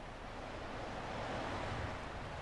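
Ocean waves break steadily on a beach, a continuous broadband wash of surf that stays loud and close throughout, with some wind rumble and no voices.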